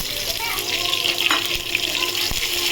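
Chopped onion frying in oil over cumin seeds for a Katla fish kaliya gives a steady, close, broadband sizzle with a faint watery hiss, with no one talking.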